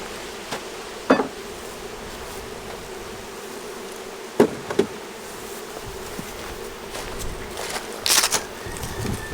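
Bees buzzing around moth-infested bee boxes, a faint steady drone with a few louder passes close by and some brief knocks, no voices.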